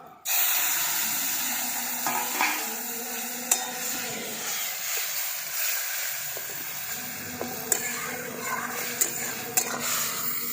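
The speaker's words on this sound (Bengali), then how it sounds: "এরপর আমি এই যে সবজিটা বানিয়ে রেখেছি, এটাকে ঢেলে দিচ্ছি" Cooked vegetables poured into a pan of fried neem leaves, a sudden sizzle followed by continuous hissing and frying crackle with occasional sharp clinks of a utensil against the pan.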